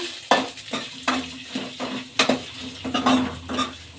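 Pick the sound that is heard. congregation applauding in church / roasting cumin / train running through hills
roasting cumin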